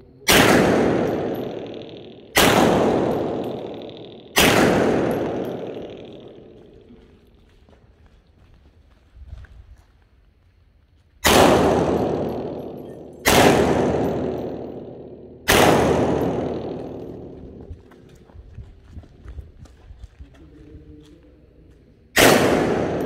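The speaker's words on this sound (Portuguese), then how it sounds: "3 tiros aqui, corro para aquela posição, mais 3, corro para a segunda posição e mais 3 lá no plate." Imbel MD2 .380 pistol firing during a shooting drill, loud sharp shots in groups with long echoing decays and gaps of movement and footsteps between them.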